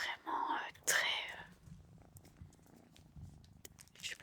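Hécate the cat purring softly while being petted, a low continuous rumbling purr running beneath close, hushed whispering that fades in and out.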